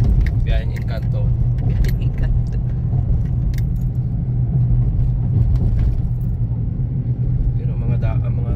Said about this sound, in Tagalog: Hirap ang makina dito, medyo pataas, mahinang klase itong ating makina, maliit.